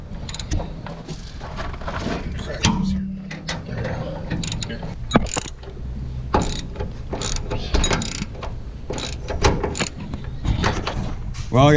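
A ratchet wrench works loose a bolt, with bursts of close metallic clicking and ratcheting that start and stop irregularly, plus clanks and some brief voices in the background.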